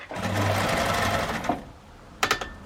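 A sewing machine runs a steady stitching burst while reverse stitching the seam of a crossbody shoulder bag, then stops, followed by a few light clicks and taps close by.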